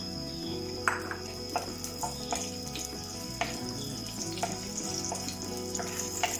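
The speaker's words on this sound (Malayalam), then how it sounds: "ഇതിൽ ആദ്യം നമുക്ക് പച്ചമുളക് ഇട്ടു കൊടുക്കാം." Green chillies fry in hot coconut oil, making a continuous nearby sizzle with scattered sharp pops and faint stirring noises.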